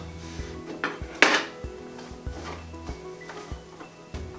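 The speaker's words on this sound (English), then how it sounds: "So next thing to do is grab a bowl" Kitchen clatter as a bowl is grabbed and set down, with several hard ceramic and metal knocks, one loud sharp clank, and lighter taps and rattles spaced irregularly at close range, no talking.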